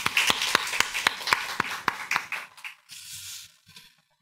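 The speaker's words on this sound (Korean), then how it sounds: "우리 한번 지금이라도 크게 하나님께 영광의 박수를 드리겠습니다" A church congregation claps together in a quick, steady unison rhythm of about ten sharp claps, then the clapping breaks up and trails off into scattered, fainter sounds.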